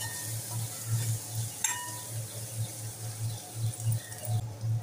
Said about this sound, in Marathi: छान सर्व परतून घेऊया।